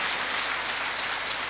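Soft, steady applause from a small audience at a Buddhist talk on the concept of time, a dense even patter that sounds faint and distant, with no voices over it.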